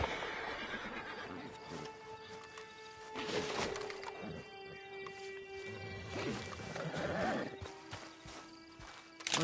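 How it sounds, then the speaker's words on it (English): Horse whinnies and snorts in a video game, with a drawn-out neigh and some hoof movement over an ambient background of game music and environmental sound. "Get on the horse when you're ready."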